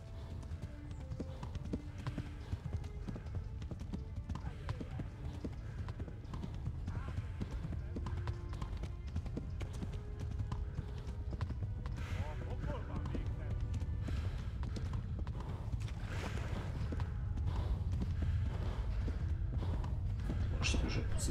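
Horse hooves gallop in a steady clip-clop rhythm throughout in the video game Kingdom Come: Deliverance, moderately loud and continuous, with a voice talking over them at times.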